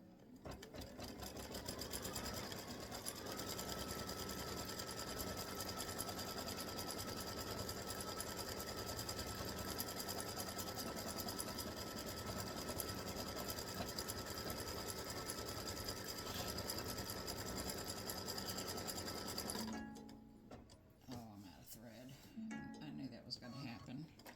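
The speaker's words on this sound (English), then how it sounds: "here it's stopping, but it won't because I found that it's going to have a travel stitch that comes over here and starts up again" An embroidery sewing machine stitches a freestanding lace bee design with a steady, rapid mechanical chatter that runs for about twenty seconds before stopping and giving way to quieter handling noises.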